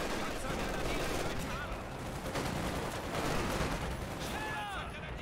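Dense rapid machine gun fire in Company of Heroes 2, continuous and busy throughout, with scattered game effects layered over it.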